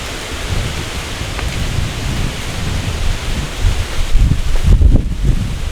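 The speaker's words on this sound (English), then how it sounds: "I may ride out this thunderstorm out here." Thunderstorm rain and wind at a kayak campsite, heard as a steady rushing roar of wind-driven rain with gusts that swell louder and rumble lower near the end. No talk.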